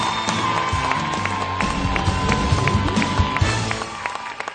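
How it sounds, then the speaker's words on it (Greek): A television studio audience gives loud, sustained applause and cheering for the night's winner, a dense wall of clapping and shouts that fades slightly at the end. "θέλω ένα πολύ δυνατό χειροκρότημα για την νικήτρια της βραδιάς"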